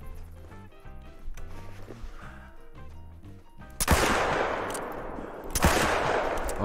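Two loud rifle shots ring out while hunting kudu in theHunter: Call of the Wild. Each is a sharp, close blast with a long rolling tail, spaced about two seconds apart, after a quieter stretch of game ambience.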